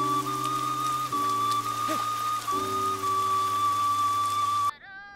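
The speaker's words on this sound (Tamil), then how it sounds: "ஏய் மழை பெய்யுதுடா வாடா." Rain falls in a steady, even hiss beneath sustained musical tones in a Tamil film scene, running unbroken for several seconds before cutting off abruptly.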